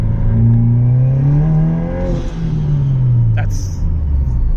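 A car engine revs hard and climbs in pitch, drops briefly as a gear shifts, then pulls again in second gear as the tires lose traction, loud and close with a short high squeal.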